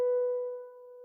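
A single harp string tuned to B natural is plucked once and rings as a clear, steady tone that fades slowly, close and alone.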